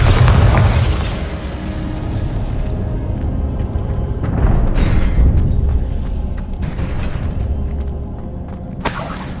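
Bombarda explosion spell cast in the video game Hogwarts Legacy, a loud opening boom followed by continuous rumbling blasts and crashing debris, with a sharp burst near the end.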